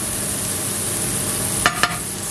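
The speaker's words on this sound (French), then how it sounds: "on fait revenir les échalotes" Shallots sautéing in a pan for stuffed endive gratin, a steady even sizzle with two brief clinks of stirring near the end.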